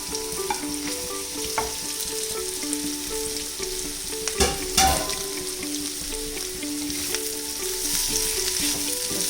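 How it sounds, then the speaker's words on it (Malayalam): Fried chicken pieces and capsicum stir-fry in a hot pan for chicken pasta with a continuous close sizzle, a clatter of pieces dropped in near the middle, and light stirring scrapes. "ഇനി നമുക്ക് വറുത്ത് വെച്ചിരിക്കുന്ന ചിക്കൻ പീസസ് ഇട്ട് കൊടുക്കാം."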